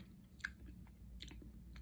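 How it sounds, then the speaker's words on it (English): A soft apple cider vinegar gummy, Goli brand, chewed close to the mouth, giving a few quiet, squishy bites and moist smacks over a low, steady background. "When you're just like chewing on it, it's super satisfying."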